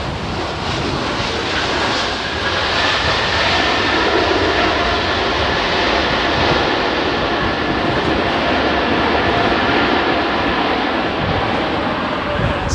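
Twin-engine US Army aircraft passing overhead at Heathrow on a windy day: a loud, continuous engine roar with a whistling whine that holds steady across the whole stretch.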